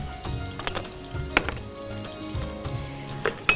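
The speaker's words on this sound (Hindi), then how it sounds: "अब हम इसको हल्का सा स्टर फ्राई करेंगे" Gentle stir-frying in a pan while cooking a Pakistani gravy, a low steady sizzle broken by a few sharp clinks and scrapes of a utensil against the metal.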